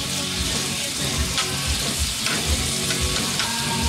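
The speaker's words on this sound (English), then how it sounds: "get my bacon cooked how I like it" Bacon cooking in a pan for a breakfast quesadilla, a dense steady sizzle and crackle of frying fat with occasional soft pops, close and continuous with no talking.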